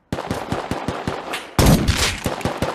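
Rapid automatic gunfire from the video game Rust, a dozen or so sharp shots in quick rhythm followed by a louder, denser burst of fire.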